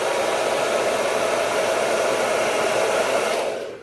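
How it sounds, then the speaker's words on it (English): A hair dryer on a warm setting blows steadily at close range while drying and lifting lash fibers on eyelashes, a loud continuous rushing whoosh that cuts off at the end. "it's okay that it looks a little crazy because my blow dryer is going to fix that"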